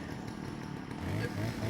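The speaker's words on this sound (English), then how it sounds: "That guy's got a chainsaw!" A chainsaw revs in the Resident Evil 4 video game, a buzzing engine drone that climbs louder toward the end, heard amid game ambience with speech overlapping.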